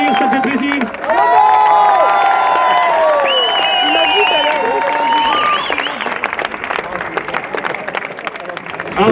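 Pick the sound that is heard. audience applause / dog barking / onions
audience applause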